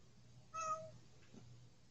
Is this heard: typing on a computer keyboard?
no